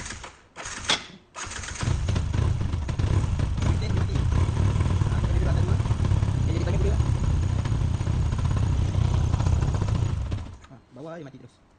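Yamaha Y15 motorcycle with a tuned 63mm engine idling roughly at close range, a steady loud chugging that cuts out abruptly near the end as the engine stalls, with a few brief revving blips before it settles.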